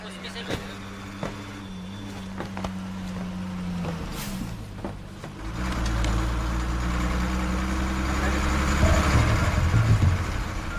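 A bus engine idles at a bus stop with a low, steady rumble that swells louder partway through, while people's voices are heard over it.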